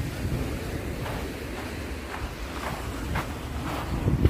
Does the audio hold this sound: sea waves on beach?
yes